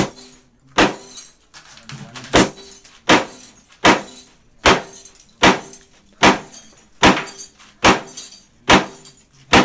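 A cast iron bathtub being struck and broken apart: a run of about a dozen sharp, loud metallic clangs spaced roughly a second apart, each ringing briefly before the next blow, with no talking.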